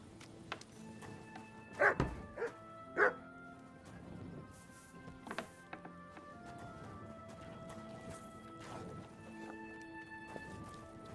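A dog barks in Kingdom Come Deliverance II, a few loud yips bunched early amid game ambience with hoof clip-clop and scattered background noises, no talk.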